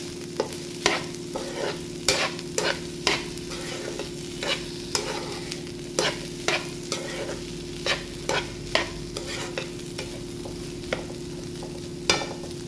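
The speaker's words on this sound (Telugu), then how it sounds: "మీడియం ఫ్లేమ్లో పెట్టుకొని కలుపుకోవాలి అంతా." Ridge gourd fry being stirred in a pan over a medium flame, a spoon scraping and clacking at an irregular steady rhythm over a constant low sizzle, close and fairly quiet, no voices.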